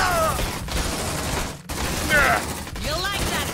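Gunfire in the video game Aliens: Dark Descent, with rapid bursts crackling over a loud, busy backdrop while voices shout over the shooting.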